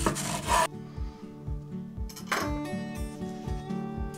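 A knife saws through a crusty chilli and cheese bread loaf with loud rasping strokes, then a series of rhythmic scraping cuts with light clinks, close and crisp.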